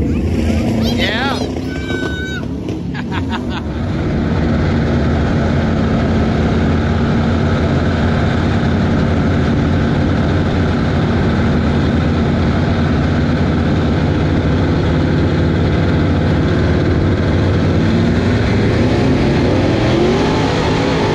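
A race car engine at a racetrack, a loud, steady low droning rumble that holds constant throughout, with a voice speaking briefly near the start.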